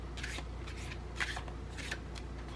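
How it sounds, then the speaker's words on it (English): A tarot deck is shuffled close by: quick riffling bursts of cards, three or four papery flutters in a row, over a low steady hum. "So I can shuffle the cards now because that was the last prompt."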